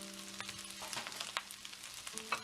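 Medium shrimp hit fried rice in a cast iron pan with a soft, continuous sizzle, punctuated by a few light clicks and stirring scrapes, fairly quiet and close.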